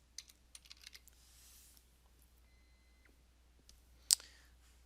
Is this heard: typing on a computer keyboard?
yes